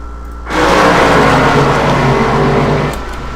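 Race trucks battling at North Wilkesboro in the iRacing simulator, a loud engine roar that bursts in abruptly, holds steady for about two and a half seconds, then fades, with no talk.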